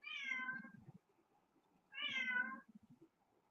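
A pet cat meows twice, two drawn-out, close and clear cries about a second and a half apart, each trailing off into low throaty murmurs.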